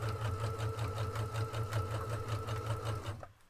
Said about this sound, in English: I'm just going to stitch it down again so that it looks a bit like a flat fell seam.